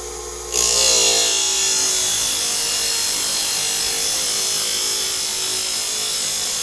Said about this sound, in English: I'm going to cut mine using my shaft cutter because that's all I have